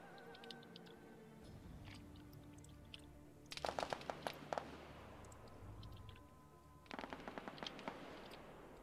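Gunfire is traded back and forth in Arma 3: rapid machine-gun bursts and scattered shots, some distant and some louder, recur over a busy low rumble of battle.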